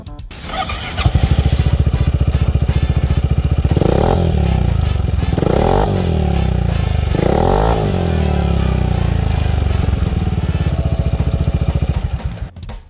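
A 2018 Yamaha XMAX 300 scooter engine starts and idles loudly close by, then revs up three times in quick surges before settling back and cutting off.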